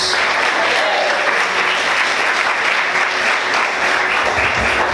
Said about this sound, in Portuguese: Vamos aplaudir Jesus, dizendo glória a Deus